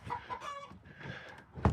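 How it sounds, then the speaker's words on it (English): Inside a chicken coop, a hen clucks in a run of short, chattering calls at close range, ending with a louder burst of clucks. "Got a chatty hen in there."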